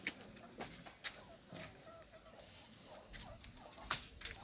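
Turkeys gobble in short bursts at a moderate distance on a provincial farm, with scattered farmyard clucks and rustling in between, pigs nearby.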